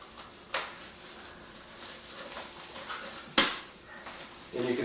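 Solo Stove camp stove parts are packed into its metal pot and lid, giving two sharp metallic clanks a few seconds apart over soft handling rustle and faint room noise, close by.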